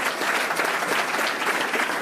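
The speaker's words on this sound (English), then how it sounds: "Can you give a very, very big round of applause to the four panellists" Audience at a panel event on democratic participation in Bruges gives a steady, dense round of applause for four panellists, filling the room evenly from start to finish.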